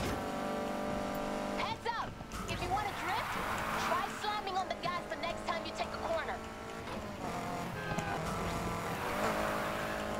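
A car in the racing game Need for Speed: Heat revs and whines through a drift, engine pitch sweeping up and down continuously while someone talks over it.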